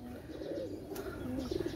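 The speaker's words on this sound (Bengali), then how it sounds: "অনেক সুন্দর কবুতর" Fancy pigeons kept for sale, including Teddy, Pakistani, Rampuri, Saki and Oman breeds, coo in low soft repeated phrases close by, with a faint background hiss and no talking.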